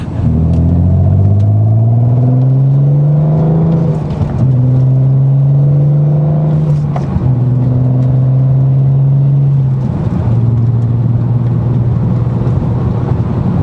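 Car engine heard from inside, loud and close, revving up through the gears with the pitch rising, dropping at each upshift around 3,000 rpm, then climbing again over steady road rumble, with no talk.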